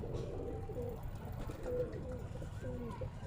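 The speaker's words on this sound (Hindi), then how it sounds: "तो ये कबूतर है जो हमने उसका मारा है" Soft, repeated cooing of a pigeon in Karachi close by, low rounded calls in short phrases over background hum, with some faint voices.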